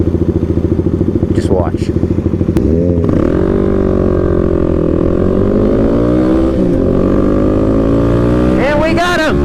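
Kawasaki KLX300 motorcycle racing a Gixxer, its engine revving hard and climbing in pitch, loud and close, with a second rising rev near the end and a brief spoken remark.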